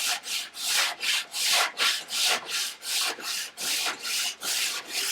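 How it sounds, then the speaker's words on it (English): Surform rasp shaping a hardwood longbow limb, close and loud, in about ten regular rasping strokes, each one a rough, grating scrape with short pauses between. "Quite often in bow making we use something called a surf form, right, which is like a cheese grater"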